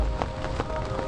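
Steady rain falling in the Amazon jungle of Peru, a dense continuous patter with soft irregular drops hitting nearby surfaces, loud and close throughout with no voices.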